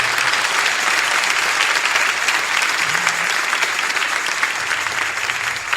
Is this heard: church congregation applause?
yes